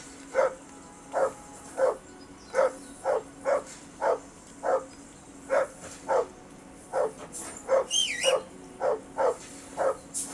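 A dog in the video game Kingdom Come: Deliverance barks steadily and repetitively, about two barks a second for ten seconds. The barks are moderately near over a quiet background, with a brief whine or yelp near the end.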